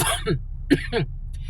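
A few short, raspy coughs and throat-clearing bursts, close and distinct, separated by brief pauses.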